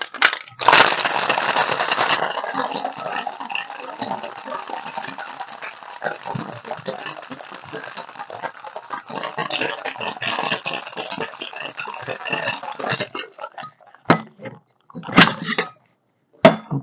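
A cocktail shaker holding an ounce of apricot brandy is shaken hard for an Angel Face cocktail, a loud sustained rattle and crunch of ice for about thirteen seconds, ending in a few separate knocks.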